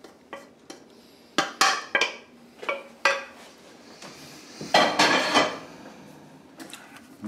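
Utensil clinking and scraping in a bowl while quiche ingredients are mixed, a series of sharp irregular clatters with a louder burst of scraping midway, no talk.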